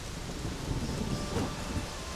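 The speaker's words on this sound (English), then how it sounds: "Raining fucking buckets." Heavy rain pours in The Witcher 3, a dense, steady downpour with low rumbling thunder rolling underneath, with no voices.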